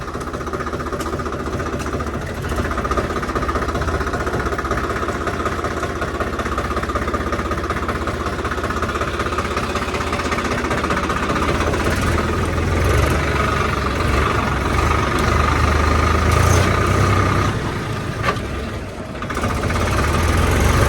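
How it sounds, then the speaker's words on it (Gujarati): A tractor engine runs with a loud, heavy diesel chug and a steady knocking rhythm, keeping a constant level throughout with slight surges. "ચલો અત્યારે ટ્રેક્ટર હવે જવા દઈએ."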